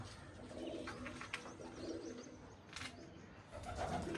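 Pigeons settled on a house roof where grain is put out coo softly and repeatedly, faint and somewhat distant, over a steady low background hum.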